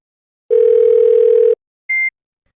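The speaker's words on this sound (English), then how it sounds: "The ringtone ends and Penny hears a click as Juliana picks up and greets her" A synthetic phone tone sounds alone: one steady beep lasting about a second, then a short, higher blip after a brief gap.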